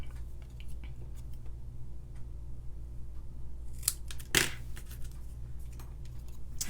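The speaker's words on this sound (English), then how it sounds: "Then, for my sentiment, I cut this out." Scissors snip through paper, cutting out a card sentiment for a handmade wedding or birthday card; a few close, crisp cuts stand out over a low steady hum, with one louder snip near the end.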